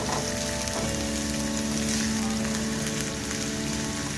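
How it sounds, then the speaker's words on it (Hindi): A medium onion fries in hot oil, giving a dense, steady, rain-like sizzle that stays close and loud for the whole stretch without letting up. "इसमें मैंने एक प्याज ली है, दरमियानी सी एक प्याज है, इसको मैंने डाला है। इसको हम फ्राई करते हैं।"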